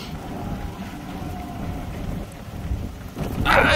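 Rain falls steadily in Costa Rica, a dense close patter with low rumbling that swells louder and brighter in the final moments, with no voices.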